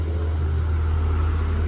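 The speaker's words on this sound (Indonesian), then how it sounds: "coba ditarik dengan dump truk Fuso." A Fuso dump truck's engine labours steadily up a steep, frightening climb, a loud, constant low drone with a deep rumble and no pauses, up close.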